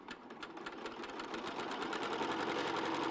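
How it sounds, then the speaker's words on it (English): Sewing machine stitching a quarter-inch seam along folded quilt fabric, a rapid steady needle rattle that builds slightly in speed and stays close. "I'm just going to sew 1/4 inch all the way to the bottom"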